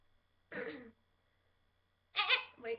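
A person imitates a baby goat's bleat with two short, nasal vocal bursts separated by a pause of more than a second, the second burst louder and broken into two parts.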